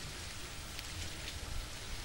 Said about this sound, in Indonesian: Ini kebetulan lagi hujan ya.